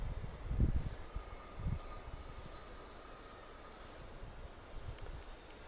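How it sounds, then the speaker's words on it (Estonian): Moderate wind blows through a Simuna pine forest, a steady broad rushing hiss with a couple of low gusty buffets early on, continuous and fairly faint with no voices. "Aga hetkel puhub ikka mõõdukas tuul."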